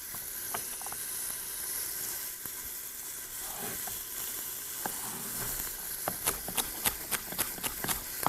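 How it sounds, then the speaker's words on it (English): Celery and carrots sizzle steadily in a pan, a soft constant frying hiss, with light scraping and tapping as they are stirred, growing more frequent toward the end. "You don't want them to burn, so give them a quick stir."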